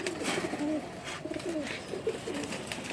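Male pigeons coo softly and repeatedly at close range, low rolling calls over a steady background hiss.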